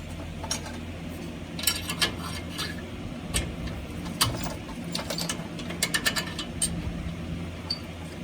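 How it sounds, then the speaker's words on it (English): Bolt being worked into the broken suspension of a 2008 Toyota Tundra, with close metallic clicks, ratcheting and clinking over a steady low hum, a few sharper taps scattered throughout. "Now we'll see if we can get this bolt in there."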